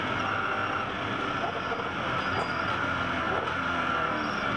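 A Porsche GT race car runs at Bathurst, its engine a loud continuous roar close by. A faint voice is partly buried beneath the noise.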